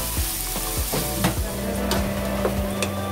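Paneer cubes crackle and hiss loudly in hot oil as a spatula stirs and scrapes through them in quick, uneven strokes, close and without any talk.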